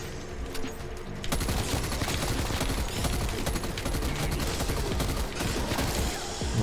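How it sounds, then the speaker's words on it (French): A burst-fire submachine gun fires continuous rapid volleys up close in Call of Duty Cold War zombies, loud and dense, with no talking over it. "Depuis quand il y a des mitraillettes à rafale?"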